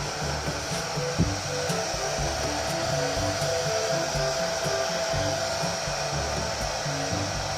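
A hair dryer blows on hair at close range, a loud continuous airy roar with faint shifts as it moves, running throughout with no talk.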